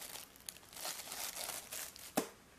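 A mylar emergency blanket from a first aid and survival kit crinkles and rustles softly and continuously, with a sharper crackle near the end, handled close by with no talk.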